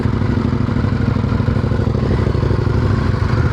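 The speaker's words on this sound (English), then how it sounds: "You've got to gradually lift the throttle until you get to a comfortable speed that the bike's just sitting nicely in the sand." A motorcycle rides through thick sand on a trail between Botswana and Namibia, its engine a loud, steady close-up drone with a throbbing low rumble and rattling clatter, held at an even throttle with no talk.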